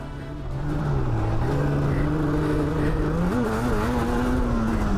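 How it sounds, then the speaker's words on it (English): A Yamaha Banshee quad bike at full throttle climbing a hill during a UK quad race: a loud, sustained two-stroke engine roar whose pitch climbs and surges steadily, close and continuous, with no talking. "Glen pinned up the hill there"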